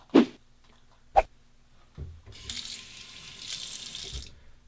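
Hot water runs from a tap into a sink during a wet shave with a Shave Nation Chubby razor, a steady broadband splash lasting a couple of seconds after two brief knocks, with no talking.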